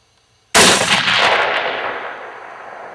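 A single loud rifle gunshot is fired from a Hyskore gun machine rest using its remote hydraulic trigger release. It cracks sharply out of silence and leaves a long, fading outdoor echo.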